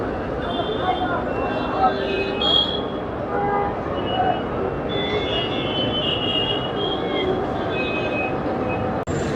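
Train noise at Howrah station platform, a steady rumbling bed of rail and carriage sound with a brief metallic squeal, mixed with constant crowd chatter and voices throughout.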